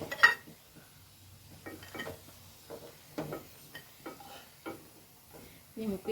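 Fried food is scooped out of hot ghee in a pan for a palvazhakka banana snack, with light scrapes and clinks of a ladle against the pan over a faint sizzle, in short scattered bursts.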